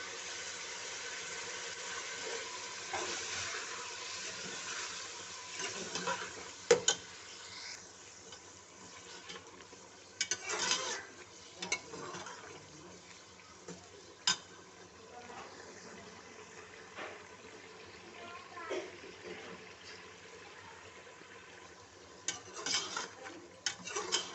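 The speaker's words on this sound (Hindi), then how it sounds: "अब हम इसके अंदर लहसुन अदरक का पेस्ट डालेंगे। इसको थोड़ी देर भूनेंगे।" Steady soft sizzling of garlic ginger paste frying in a pot, with occasional clinks and scrapes of stirring, continuing for a long stretch with little else.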